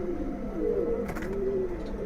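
Pigeons coo in a rooftop loft in Old Dhaka, a close, soft, rolling murmur of low calls rising and falling over a couple of seconds against quiet background noise.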